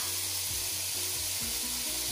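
Onion sizzles in a pan with salted pork for pinakbet: a continuous, fairly loud hissing fry with no voice heard, plus a low hum and some stirring scrapes underneath.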